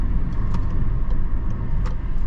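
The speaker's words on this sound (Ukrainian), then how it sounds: "Машинка стартує гарно" A 2020 Nissan Leaf electric car pulls away from a standstill, a low steady road and motor rumble filling the cabin with faint higher whines and ticks over it.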